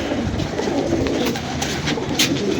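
Low, soft cooing of pigeons rolls steadily throughout, with a few faint rustles and flutters on top.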